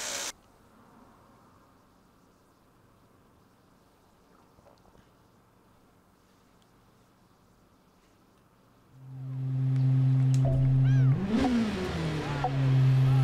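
Rally car engine in WRC 5 starting on a gravel stage: a long quiet stretch, then a loud engine rising and revving hard near the end, with the pitch sweeping upward.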